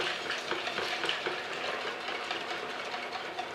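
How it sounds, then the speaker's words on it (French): A mixture being stirred into boiling milk for pastry cream, a continuous bubbling, sizzling hiss with soft scraping from the spoon, steady and close with no voices. "je vais incorporer le mélange dedans, tout en remuant bien sûr"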